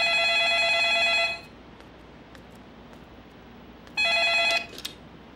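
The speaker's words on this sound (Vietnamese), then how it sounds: "Để em nghe điện thoại cái." A telephone at a rice mill office rings twice, a loud sustained electronic burst followed by a pause and a second burst, alone in a quiet room.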